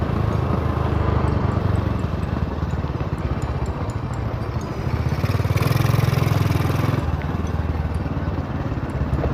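A worn Honda Wave 125S motorcycle is ridden on a test run, its small engine putting out a steady low buzz that swells and eases with the throttle, close by and alone.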